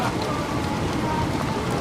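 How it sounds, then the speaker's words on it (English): Steady rain falls during a storm chase on the Texas Panhandle under a supercell, a dense continuous patter on surfaces, fairly loud and close. "Eugene, I blame you for the rain."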